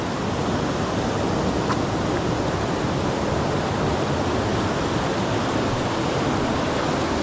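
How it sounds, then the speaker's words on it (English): A small waterfall at Hareshaw Linn gives off a steady, dense roar of falling water, unbroken and close for the whole stretch, with no voices. "so that's your first bit waterfall."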